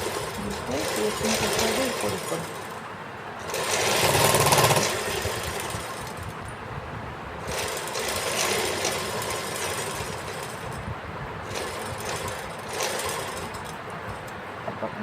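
A sewing machine stitches the neckline of a summer suit, its motor whirring steadily with a louder burst around the middle and brief pauses between runs; faint background noise sits underneath.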